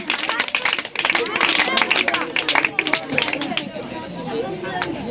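An audience applauds a student speaker at a school talk on education, dense clapping from a crowd with babble and voices over it, steady throughout.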